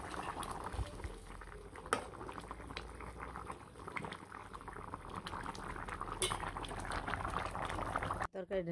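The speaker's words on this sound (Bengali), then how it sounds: "আর তরকারিটা প্রায় যে ঘন হয়ে গেছে, আর একটু হালকা জাল দিয়ে ঘন হয়ে যাবো।" Thick fish curry simmering on a low flame, with a soft, continuous bubbling close by, a few utensil clinks and a voice talking quietly underneath.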